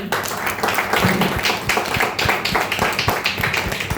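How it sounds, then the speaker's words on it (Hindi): Steady applause from a crowd, a dense patter of many hands clapping at once, sustained throughout at moderate volume. "जोरदार तालियां होना चाहिए सर के लिए"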